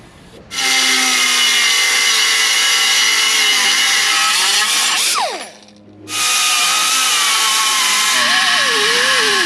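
A power tool cuts through a piece of steel for a storage build in a Honda CR-V, loud and continuous for several seconds, then stopping briefly with a falling whine before the cut resumes at full volume.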